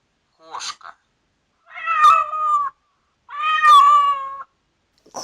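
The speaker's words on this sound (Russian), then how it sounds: "Кошка." A domestic cat meows about three times, a short mew followed by two longer, drawn-out calls, close and clear with silence between them.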